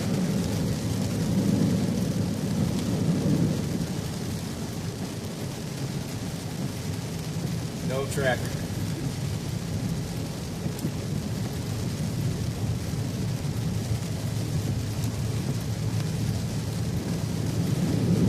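Steady heavy rain pours down through a summer storm while a low rumble of thunder rolls in the background, with a brief sharper crack partway through; someone briefly says a few words.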